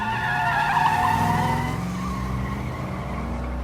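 A car skids and pulls away with loud tire squeal and engine roar, the noise steady and close before easing off slightly toward the end.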